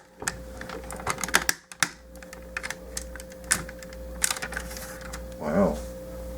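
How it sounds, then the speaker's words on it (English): Ratchet joints on a 2001 Robots in Disguise Optimus Prime toy click as its parts are moved, a run of sharp, irregular plastic clicks close by, with a brief voice murmur partway through. "Ooh, those are some serious ratchets."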